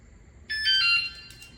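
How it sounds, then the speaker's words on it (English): A Wsdcam 113dB wireless bike alarm, hidden in a back seat, gives a single clear electronic beep lasting about half a second as it arms, close and fairly loud, with no talking. "That's arming it. You gotta wait for the beep."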